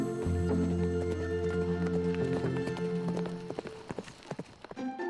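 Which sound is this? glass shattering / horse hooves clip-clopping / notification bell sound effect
horse hooves clip-clopping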